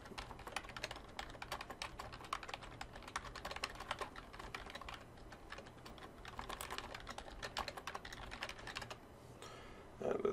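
Fingers type steadily on a computer keyboard, a quiet, continuous patter of close key clicks with short pauses and no talking.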